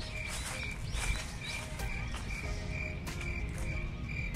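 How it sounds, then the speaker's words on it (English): Evening cicadas in summer trees produce a loud, pulsing chorus of regular rhythmic chirps repeating about twice a second, steady and close, with other faint insect buzz beneath. "evening cicadas that are so noisy"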